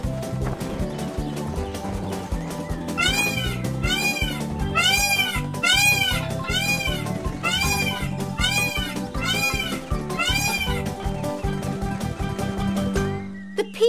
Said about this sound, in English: Those jungle cats are too close.